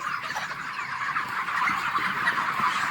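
A dense flock of broiler chickens clucks and chatters continuously in a poultry shed, a constant overlapping din of many birds with no talking.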